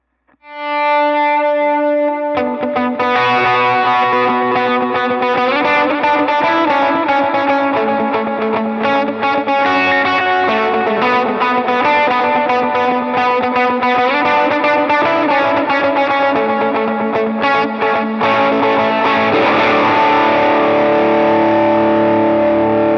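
Lead electric guitar run through distortion, chorus and other effects plays a sustained, continuous riff with dense harmonics, loud and close, with no talking over it.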